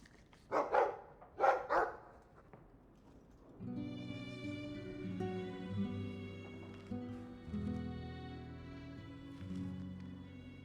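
A dog in a Dragon Age cutscene gives two loud, sharp barks close up, then falls quiet while sustained orchestral music swells and carries on for the rest.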